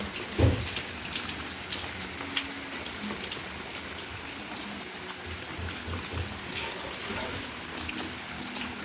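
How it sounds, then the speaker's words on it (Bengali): Steady rain falls and patters on surfaces in an even, continuous hiss, moderately close, with no voices. "সমানে বৃষ্টি পড়ছে।"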